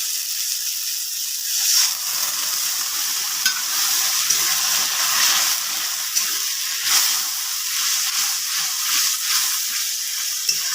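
Water is poured into a frying masala of ginger-garlic paste and tomatoes for a jackfruit biryani. It bursts into a loud, continuous steamy sizzle and hiss with faint stirring, close up and without talk.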